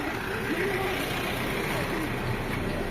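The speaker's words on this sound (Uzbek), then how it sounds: "Mana avtobus keldi." A bus pulls up in Nha Trang, Vietnam, with a steady low engine rumble close by, and voices talk over it.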